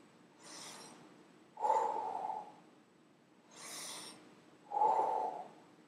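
Breathing exercise in a beginning trumpet lesson: two slow in-and-out breath cycles, each a soft airy inhale followed by a louder, rounder exhaled hoot-like breath, close and alone without talk.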